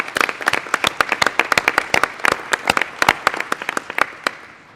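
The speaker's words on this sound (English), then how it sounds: "maybe we should just give a round of applause for Kathleen and team there" Applause at a state tourism commission meeting: a small group of people clapping in a room, close and distinct, steady claps for several seconds that thin out at the end.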